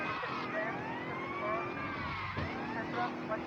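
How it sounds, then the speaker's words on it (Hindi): A police car siren in the video game GTA Vice City wails up and down continuously, steady and moderately loud over engine rumble, with a faint voice briefly underneath. "अगर इसका सायरन ऑन रहता है तो हमें पुलिस बहुत जल्दी डिटेक्ट कर लेती है।"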